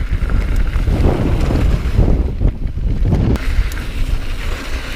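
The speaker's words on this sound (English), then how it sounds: "Oh, windy." Strong wind buffets the microphone on a loose mountain bike trail, a continuous loud rumbling roar with gusts that swell and ease throughout, with no other sounds standing out.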